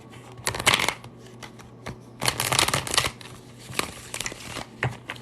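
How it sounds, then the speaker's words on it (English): A deck of tarot cards being shuffled in several quick riffling bursts with short pauses between, close and fairly crisp, with no talking. "Let's get this a quick shuffle."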